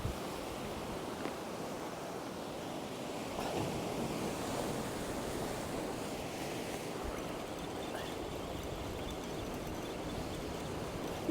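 Rough sea at Collywell Bay, waves and heavy swell breaking in a steady wash of surf, continuous and fairly distant with wind noise on the microphone, no voices.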